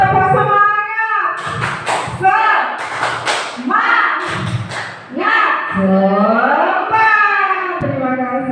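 A group doing the 'tepuk semangat' clapping chant at a school positive-culture workshop: loud, close voices chant in unison while bursts of sharp, rhythmic claps punctuate the chant in short patterned clusters.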